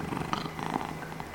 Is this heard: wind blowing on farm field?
no